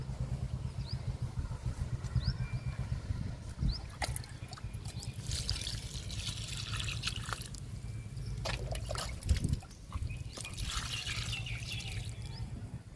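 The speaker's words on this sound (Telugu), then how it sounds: "ఇప్పుడు ఈ మొక్కకి లిక్విడ్ ఇస్తున్నాను" Homemade liquid fertilizer poured onto a tall potted adenium plant, a steady trickling, dribbling flow close by with occasional splashes and drips, low background rumble, no talk.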